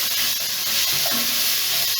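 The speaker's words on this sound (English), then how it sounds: "the vegetables we chopped up, in they go. So that's onion and celery there. Stir that about." Chopped onion and celery stirred in a pot over low heat for oxtail stew, giving a steady soft sizzle and hiss with faint scraping from the spoon, close and continuous.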